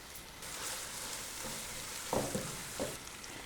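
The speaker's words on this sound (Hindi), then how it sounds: "स्पाइसेस को हमने कीमे के साथ अच्छी तरह से भून लेना है" Minced meat frying with spices for qeema matar sizzles steadily in a pan, a continuous hiss with a few brief scraping stirs near the end and no talking.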